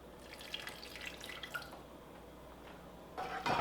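Water is poured into a pan of vegan gravy, a faint trickling and dripping splash over quiet room noise, growing louder at the very end.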